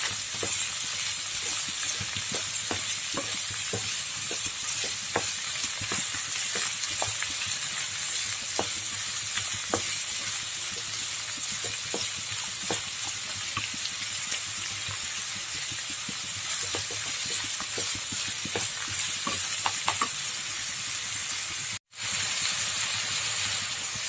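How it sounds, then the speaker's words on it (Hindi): Chicken with chana dal and green chilli sautés in a hot pan, a steady dense sizzle with scattered crackles running throughout, close and continuous, broken only by one brief dropout near the end. "इसको अच्छी तरह सौटे कर लेंगे हम, अच्छी तरह भून लेंगे।"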